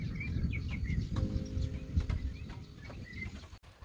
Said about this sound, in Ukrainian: було чутно лише спів пташок